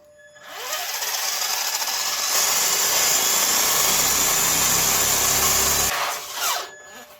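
A Traxxas RC truck's 2S brushed electric motor whirs up to a loud, steady high-pitched whine, holds for about five seconds and then cuts off, with no talking.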